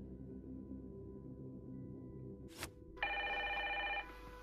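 In the video game Evidence 111, a telephone bell rings, a single bright, sustained electric trill heard close over a low musical hum, preceded by a short burst of noise.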